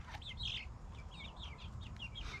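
Young chickens in a makeshift garage brooder give soft, repeated clucks and peeping chirps, faint against a low background rumble.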